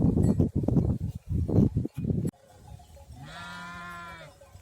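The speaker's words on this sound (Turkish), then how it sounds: "komşumuzun koyunları" A neighbour's flock of sheep bleating in cold winter weather, a run of loud overlapping bleats close by, followed by a single long, drawn-out bleat that fades at the end.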